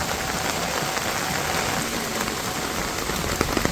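Light rain falling steadily in a village, a dense even hiss of drops on surfaces with a few louder patters near the end, no voices.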